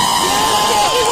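A crowd cheers and shouts loudly and continuously at a sangeet celebration, a dense dense wash of voices throughout.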